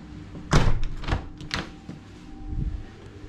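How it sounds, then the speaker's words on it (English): A back door in a shared house opens onto a garden with several clunks and rattles of the handle and frame, close by in a quiet indoor space. "We'll just have a quick look out to the back door"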